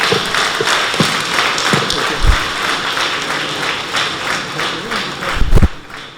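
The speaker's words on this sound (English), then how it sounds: "Another round of applause for our governors" An audience at a Nigerian presidential health initiative launch applauds the governors, with loud, dense clapping and a few scattered heavy thumps standing out, sustained and near throughout.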